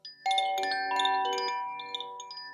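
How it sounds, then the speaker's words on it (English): Koshi chime bells ring softly on their own, several bright overlapping tones hanging and slowly fading after a gentle onset, with a few lighter strikes toward the end. "So anyway, I have some koshi bells."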